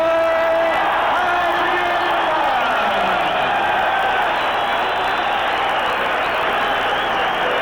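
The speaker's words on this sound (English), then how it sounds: "the crowd reacting as Vinny Pazienza could not put Elizondo away until those final seconds" Boxing arena crowd roaring after a tenth-round TKO stoppage in Vinny Pazienza versus Roberto Elizondo, a loud, sustained wash of cheering and yelling with a few whoops rising early on.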